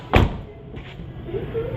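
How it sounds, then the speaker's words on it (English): A Dodge Challenger door with a frameless window shuts in one solid, close thump, followed by faint mechanical whirring and low background rumble as the window seals. "When I close this door, watch what the window does."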